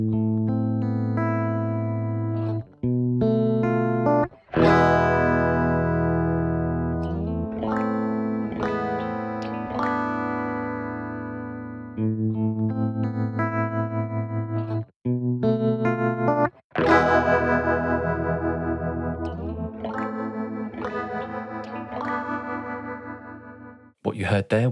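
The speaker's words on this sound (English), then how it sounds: "What you heard there was a very small amount of tremolo playing in the softer parts of that performance" Electric guitar through Waves Kaleidoscopes analog-style tremolo and chorus modulation, first finger-picked notes and then big loud strums, ringing with a shimmering, wavering tone; close and continuous with brief pauses between phrases.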